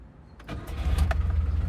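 A classic Lada VAZ car engine cranks for a split second and catches on the first try, then settles into a steady, throbbing idle heard up close.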